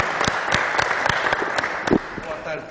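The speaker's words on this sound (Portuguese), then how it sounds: "recebendo o quê? Os aplausos!" An audience applauds Dr. Carlos Pinto da Luz, a lawyer, as he steps to the center of a stage, with dense clapping and distinct individual claps throughout.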